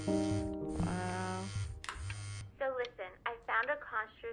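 Phone ringing in Before Your Eyes, a VR game played on PSVR2: a steady electronic ringtone with sustained tonal bands, fading out before voices begin talking over the final seconds.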